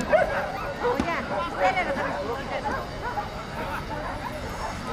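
Light-coloured Yakutian Laika dogs barking with short yips and whimpers, scattered through steady nearby voices and crowd talk at an outdoor dog show.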